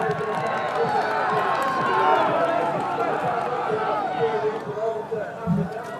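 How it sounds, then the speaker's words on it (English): Dense roar of a large crowd lining the Hoogerheide cyclo-cross World Cup course during the elite women's race, a steady mass of voices and cheering with clatter and scattered calls throughout. "It's a magnificent crowd here in Hoogerheide."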